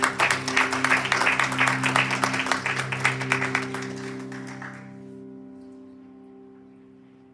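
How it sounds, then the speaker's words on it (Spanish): Church congregation clapping for the Lord, a dense, rhythmic burst of applause over sustained keyboard chords that fades out around five seconds, leaving the held chords ringing alone. "Un aplauso al Señor."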